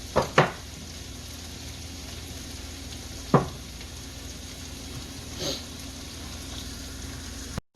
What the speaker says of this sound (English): Getting these vegetables to sweat a little bit.